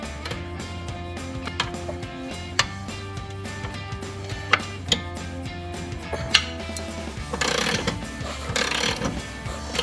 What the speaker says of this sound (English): in this case, we will actually use the ratchet